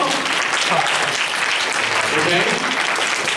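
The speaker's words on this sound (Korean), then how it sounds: "다시 한번 박수 주세요." Church congregation at a youth Sunday service clapping together, a steady, fairly loud burst of applause sustained throughout with a voice faintly underneath.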